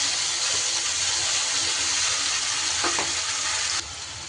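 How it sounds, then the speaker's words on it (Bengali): Water from a rinsed mixer jar goes into a hot pan of frying spice paste for butter catfish curry, giving a loud, steady hissing sizzle that drops in level near the end. "মিক্সির বাটিটা ধুয়েও একটু জল দিয়ে দিচ্ছে।"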